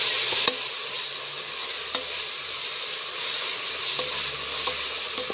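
Ginger garlic paste sautéing with onion and tomato in a pan, a constant hissing sizzle with a few faint clicks of a stirring spoon, near and steady, no voices.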